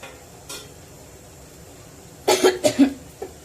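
A person coughs from spicy tempering fumes while fish curry boils: one short cough, then a close cluster of three or four loud harsh coughs, and a last faint one.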